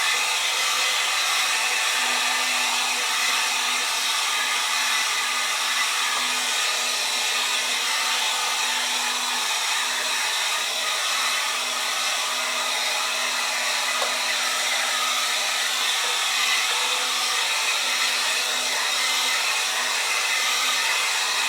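Heat gun blowing steadily on fresh paint on a salvaged dresser, a loud continuous airy roar with a faint steady hum beneath, running unbroken the whole time.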